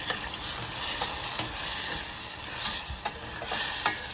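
Spices and tomatoes are stirred in a hot frying pan, sizzling steadily with repeated scraping strokes of the spoon close by, and no voice over it.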